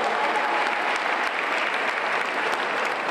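Sustained audience applause from a crowd, a dense, even wash of many hands clapping throughout with no break.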